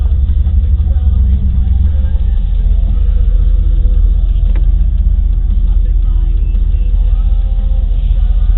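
A 2002 Dodge Ram 1500 SLT engine fitted with new NGK Ruthenium HX spark plugs runs in a steady, low, grunting drone, loud and constant throughout with a slight murmur of cabin noise.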